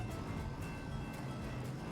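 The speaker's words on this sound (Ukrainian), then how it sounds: "Довбаний поїзд." A train rumbles past in the video game American Fugitive, a steady low, broadband roar that fills the moment without any speech over it.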